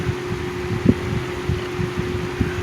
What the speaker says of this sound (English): the most powerful box fan